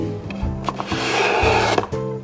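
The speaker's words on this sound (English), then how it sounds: "Oh, pulled the drawer right out." A drawer slides and is pulled right out, producing several wooden knocks, scrapes and clatters in quick succession, close and fairly loud.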